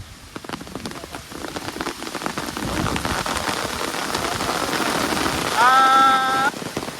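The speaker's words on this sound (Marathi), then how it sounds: "मस्तच मोठा पाऊस आलाय जोरात" Heavy rain pours down over a flooded river in a dense, steady roar, with a short high whistling tone rising briefly near the end.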